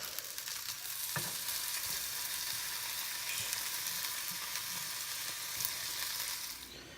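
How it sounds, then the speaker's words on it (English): Bacon strips fry in a pan over medium heat, a dense, even crackling sizzle held close and loud throughout, with faint utensil taps and no talking. "I'm going to fry this up here and give it a try"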